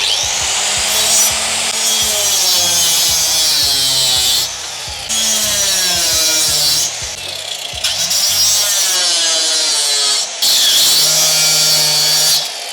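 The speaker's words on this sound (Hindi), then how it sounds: "अभी हम लोग इसको काटेंगे, कुछ नहीं, कटर मशीन से आपको सीधा" A cutter machine saws along a marked circle in a workpiece, giving loud, harsh grinding bursts that rise and fall in repeated passes with brief pauses between cuts, close and alone.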